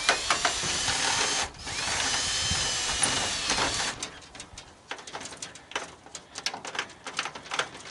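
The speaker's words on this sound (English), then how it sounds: "the drill isn't real efficient on this" An electric drill runs steadily through sheet aluminum for a few seconds at close range, then stops, leaving scattered clicks and light clatter.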